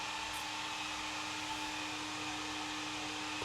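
A hair dryer runs after a bath, giving a steady, loud, unbroken whoosh of blowing air with a constant motor whine throughout and no speech.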